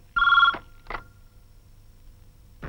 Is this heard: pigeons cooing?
no